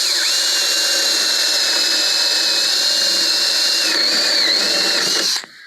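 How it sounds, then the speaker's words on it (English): A power drill with a paddle bit bores a hole during a mobile home bathroom remodel: a loud, continuous, high-pitched whine that holds steady for several seconds, then cuts off abruptly near the end. "if you have a drill, like a paddle bit of some kind,"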